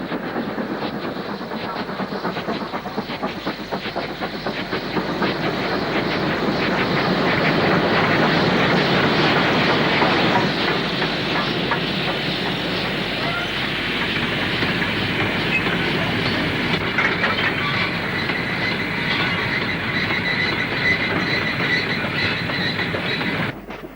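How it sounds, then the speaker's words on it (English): Snow-plough fitted Black 5 steam locomotive hauling a train past a signal box on the line near Shap, heard as a sustained loud rumble with rhythmic wheel clatter over the whole stretch, building slightly and then holding steady. "A snow-plough fitted Black 5 follows, past the signal box which replaced the one closed at Shap Station"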